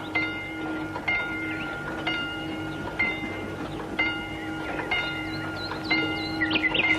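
A train waits at Bright River Station, a small country platform, with a steady mechanical rumble and sustained tonal hums that swell and pulse in a loose rhythm, moderately loud and close, with no talk.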